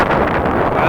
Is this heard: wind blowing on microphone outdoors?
yes